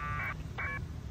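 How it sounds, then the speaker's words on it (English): A Baofeng handheld radio with a nearby antenna puts out two short bursts of Winlink packet radio connection tones over steady static hiss, heard close by. "That's the sound of a connection."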